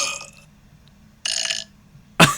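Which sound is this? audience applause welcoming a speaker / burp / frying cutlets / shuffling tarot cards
burp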